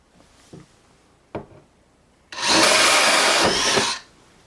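A hole saw cuts holes into a home theater cabinet, heard after two short knocks as one loud, close, steady grinding whine lasting about a second and a half, then stopping abruptly.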